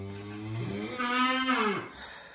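A single long moo from a cow on a farm, rising in pitch and then falling away, loud and close with no talk over it.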